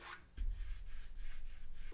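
A hand rubs across the rough, ridged and dented surface of an unsmoothed 3D-printed Mandalorian helmet, making a few close, soft scraping strokes in a quick rhythm.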